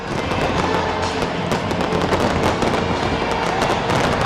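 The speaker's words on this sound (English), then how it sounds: "there was a spectacular fireworks show to cap off the event" A fireworks show at Lambeau Field caps off a football event, a dense, loud barrage of rapid crackling bursts and pops continuing throughout without pause.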